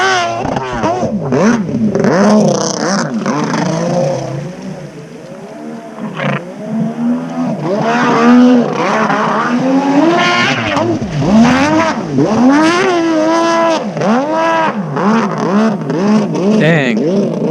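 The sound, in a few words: Kawasaki 650SX jet ski with swapped 1100 triple engine revving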